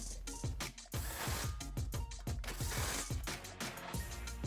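Ratchet snugging the exhaust clamps on a Y pipe while installing a Ford Performance by Borla cat-back exhaust on a 2018-2023 Mustang EcoBoost, rapid repeated clicking strokes, close and steady with brief pauses.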